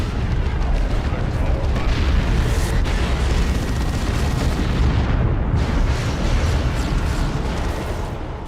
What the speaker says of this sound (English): I love the artillery in this